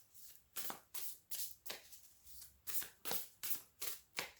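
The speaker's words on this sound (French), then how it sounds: "Hop, elle se mélange super bien" An oracle card deck riffled and shuffled by hand, about ten crisp rhythmic swishes in a steady pattern, close and fairly quiet, with no talking over them.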